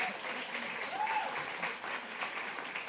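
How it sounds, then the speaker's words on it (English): Audience at a photography awards ceremony clapping, a continuous soft wash of applause heard from a distance at low volume, with a faint voice briefly rising through it. "The clapping relaxes me"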